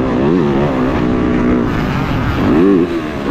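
A 2023 Yamaha YZ450F dirt bike with a Yoshimura exhaust, engine running loud and close, holding a steady roar with two sharp throttle blips that rise and fall in pitch.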